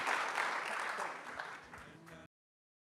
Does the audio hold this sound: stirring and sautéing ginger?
no